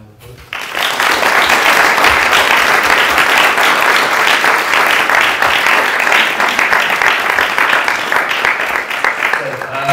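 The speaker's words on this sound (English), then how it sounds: "maybe we can give Nitesh a massive round of applause" Loud, sustained applause from a large audience at a talk on the Bhagavad Gita, starting abruptly and continuing steadily with dense clapping throughout.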